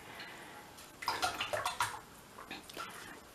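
Homemade elderflower cordial drains and splashes into a bowl as it is squeezed through, faint liquid trickles building into a short run of wet splashes and drips.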